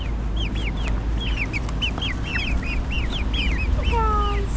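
Young chickens in their brooder chirp and cluck in quick, close, overlapping calls, with a steady low hum beneath and a few longer peeps near the end.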